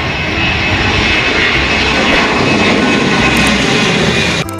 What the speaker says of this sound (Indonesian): Wow, pesawat terbang.